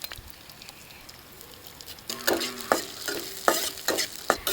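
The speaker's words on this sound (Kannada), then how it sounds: "ಎಣ್ಣೆ ಬಿಸಿ ಆಗ್ತಿದ್ದಾಗೇ ನಾನಿಲ್ಲಿ 2 ಚಮಚ ಆಗುವಷ್ಟು ಉದ್ದಿನಬೇಳೆಯನ್ನು ಹಾಕ್ಕೊಳ್ತಾ ಇದ್ದೇನೆ" Urad dal and fenugreek seeds frying in hot oil: a soft sizzle that jumps louder midway as seeds hit the pan, with sharp crackles and spoon scrapes over a steady hiss, close and without talk.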